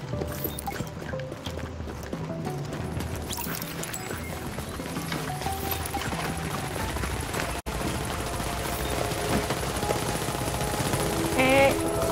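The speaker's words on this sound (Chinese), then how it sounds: "打直升机喽。" During a helicopter attack in the video game The Division, rotor thrum drones under bursts of rapid gunfire and shots, with in-game voices talking over the steady action and a brief dropout partway through.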